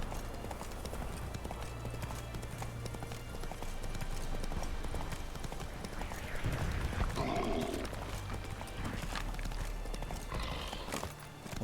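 Roach, the horse in the video game The Witcher, running with steady rhythmic hooves clip-clopping close by, a brief whinny partway through, over a constant background of game ambience.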